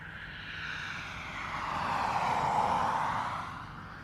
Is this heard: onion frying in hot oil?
no